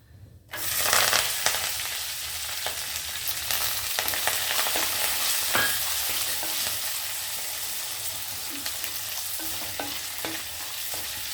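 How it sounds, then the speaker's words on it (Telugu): Onion, green chillies and curry leaves drop into hot oil with a sudden loud sizzle, then settle into a steady crackling fry that stays strong throughout, with faint scraping of stirring. "ఆనియన్, మిర్చి, కరివేపాకు ఒకేసారి వేసేసాను."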